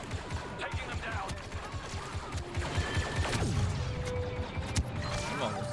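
Blaster gunfire in Star Wars Battlefront II, a dense busy mix of zapping shots and whooshes over a low battle rumble, with voices talking over it throughout.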